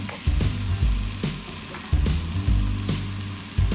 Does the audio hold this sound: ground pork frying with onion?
yes